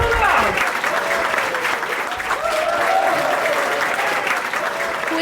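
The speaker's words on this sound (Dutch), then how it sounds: "Een heel groot applaus voor deze wereldkampioen" A packed village crowd in Hallum gives sustained, dense applause to world champion cyclist Marijke Groenewoud, the clapping steady and loud throughout, with some voices mixed in.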